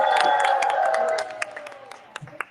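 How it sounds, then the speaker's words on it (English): A crowd at a charity livestream kickoff event cheers and whoops with scattered clapping, loud at first and then thinning into sparse claps and shouts. "If you can't make some noise, let's cheer it out loud."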